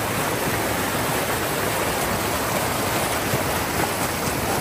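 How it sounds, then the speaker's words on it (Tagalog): A stream's flowing water rushes steadily and fairly loudly, a constant broadband wash with no breaks and no voices over it. "Ayan, stream."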